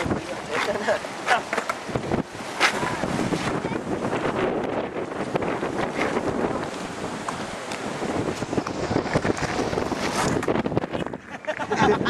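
Strong wind buffets the microphone in a constant roar, with people talking faintly underneath the gusts.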